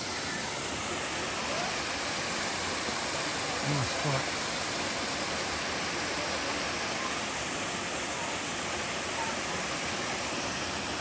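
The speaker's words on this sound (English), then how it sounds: "Swimming around to the waterfall." A waterfall pours into an upper rock pool in the Northern Territory, a steady broadband rush filling the whole stretch under a brief spoken remark.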